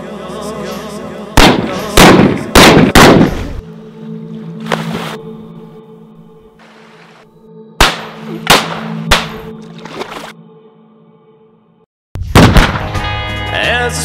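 Several sharp, loud gunshot cracks from an outlaw's gun in a western street showdown come in clusters, separated by ringing echoes and sustained music tones.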